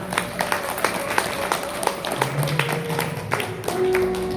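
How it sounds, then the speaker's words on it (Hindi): An audience at a devotional gathering claps in steady rhythmic beats to welcome a guru, with sustained musical tones and faint voices underneath. "एक बार जोरदार तालियां बजाकर उनका स्वागत करेंगे।"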